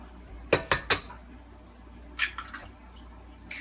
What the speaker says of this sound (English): So we'll add 2 eggs into our wet portion of our mixture.